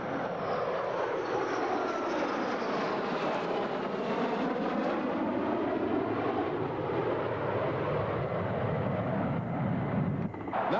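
A KA-7 tanker jet flies a simulated refuelling pass at a 1987 airshow, producing a loud, continuous jet roar that swells and shifts in pitch as it passes overhead, steady for about eleven seconds with no speech.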